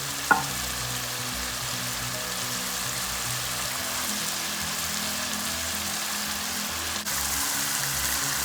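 Minced keema sizzles and crackles in a hot pan, a steady close frying hiss with a faint low hum underneath, a small tap at the start and a slight shift in tone near the end, with no talking.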